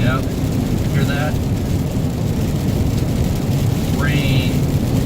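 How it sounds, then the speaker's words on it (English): Steady rain falls outdoors by Perry Lake on a May day, a dense, even hiss throughout, with a few brief rising chirps over it. "Wasn't supposed to be rain today."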